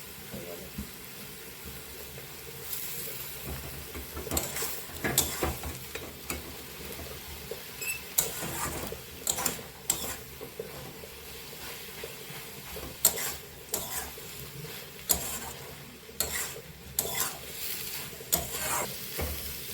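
Spinach, bathua greens and egg curry with coriander leaves being stirred and mashed in a pan, with soft scraping and clinks of the spoon over a faint sizzle, close by; a voice talks throughout.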